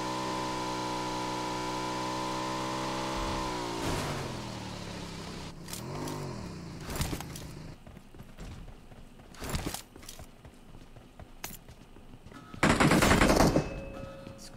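Gunfire in the PUBG Mobile battle royale game: engine drone fades into scattered loud shots and short automatic bursts, ending in a dense rattle of fire.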